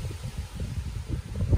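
Low, gusty wind buffets the microphone at a river overlook in Porcupine Mountains Wilderness State Park, Michigan, in uneven rumbling pulses, steady throughout with no speech.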